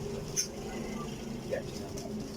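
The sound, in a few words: pigeons cooing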